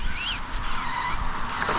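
Electric 80 mph RC truck skidding under hard braking, its tires squealing briefly over a continuous buzzing motor and broadband scuffing noise, close and fairly loud.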